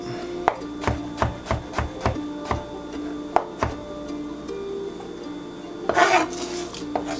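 Toasted garlic and dried chile de arbol being chopped on a cutting board for adobo chicken, a steady run of crisp knife thuds, about a dozen close taps, with a brief rustling scrape near the end.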